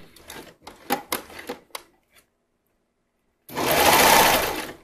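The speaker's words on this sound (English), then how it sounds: "I'm just going to serge straight across the top, not trimming anything off" A serger runs straight across the top edge of a swim top. A few short, close stitching bursts come first, then a brief pause, then one loud sustained run of the machine.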